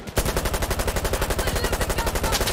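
Sustained automatic gunfire from the tactical shooter video game Insurgency Sandstorm, a loud, rapid, evenly spaced burst of shots running without pause for a couple of seconds.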